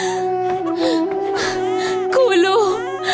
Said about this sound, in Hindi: सुन नहीं रही हो कि बच्चा रो रहा है?